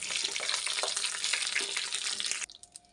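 Bay leaf, cardamom, cinnamon, cloves and dried red chillies sizzle in hot oil, a loud steady frying hiss with bubbling crackle that drops off suddenly to quieter pops.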